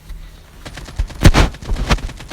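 AK rifle fire in Call of Duty cracks in a few quick sharp bursts, louder toward the middle and end of a short stretch.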